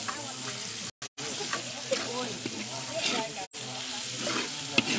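Isan-style rice stir-fried in a hot pan over a wood fire outdoors at a temple in Thailand, with steady loud sizzling and scraping of the spatula, briefly interrupted twice, while voices talk nearby.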